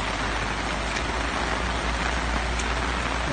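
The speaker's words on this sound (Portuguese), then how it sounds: "Essa chuvinha abençoada aqui na cidade de Sobral." Rain falls steadily on a city street in Sobral, a dense, even hiss of drops with a low rumble beneath, close and continuous with no voices.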